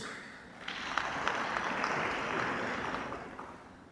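An audience at a Brazilian event-security conference applauds, a dense, steady clapping that swells and then slowly fades over a few seconds, heard from within the hall.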